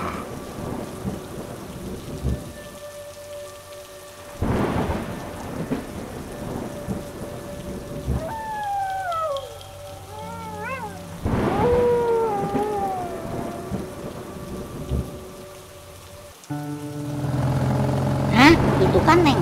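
Heavy rain pours steadily with loud rolls of thunder in a village at night, mixed with eerie whooshing effects and swelling tones, with no clear talk.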